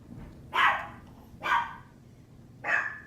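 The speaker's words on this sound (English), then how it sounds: "That dog is so disobedient, but yet is obsessed with me and follows me everywhere." A dog named Stormy barks three separate times, each a sharp, fairly close woof with pauses between, in an otherwise quiet indoor room.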